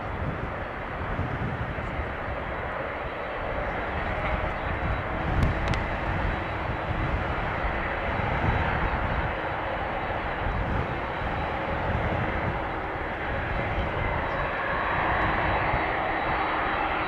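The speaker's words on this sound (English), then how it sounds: "Taxiing to the threshold of runway 18 left." Airliner engines taxiing at Amsterdam Schiphol Airport toward the runway threshold, a steady loud roar that holds throughout with wind buffeting and no pauses.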